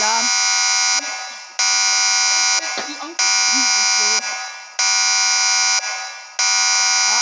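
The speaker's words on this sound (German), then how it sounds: "Oh oh, Alarm." A loud pulsing alarm blares in a Roblox break-in game, sounding in about five long bursts separated by short gaps, while players speak briefly over it.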